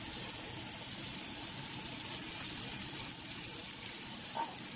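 Water poured into dal masala as it cooks, a steady, fairly faint splashing gush that continues evenly with no talk.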